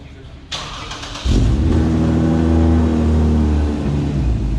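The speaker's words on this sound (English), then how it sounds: "about to take the customers on a ride, showing them their new supercharged IS350" A supercharged Lexus IS350 catches and fires up, settling into a loud, deep, close idle that swells with revs and then eases slightly toward the end.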